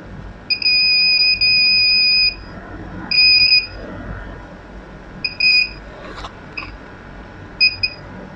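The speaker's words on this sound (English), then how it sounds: "Now let's see how the buzzer works." An Arduino electronic buzzer on an ultrasonic obstacle-sensing glove sounds in repeated beeps, two long tones then shorter bursts, loud and close, with quiet background between.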